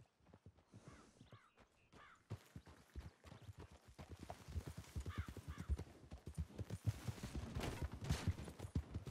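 Horse hooves clip-clop steadily outdoors, the irregular clatter growing louder and busier toward the end amid other sharp knocks, with a few faint bird-like calls early on.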